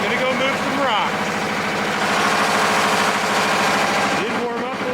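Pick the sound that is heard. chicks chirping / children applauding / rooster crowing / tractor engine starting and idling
tractor engine starting and idling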